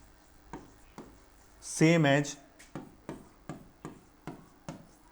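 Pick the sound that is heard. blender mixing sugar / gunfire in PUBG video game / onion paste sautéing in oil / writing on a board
writing on a board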